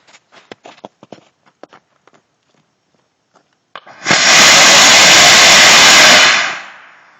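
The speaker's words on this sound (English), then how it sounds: "we'll take a look at the motor and see how it fared during firing" A small amateur rocket motor with a delay grain fires on a static test stand, a loud sustained roaring hiss lasting about two seconds before tailing off, preceded by scattered light footsteps and clicks.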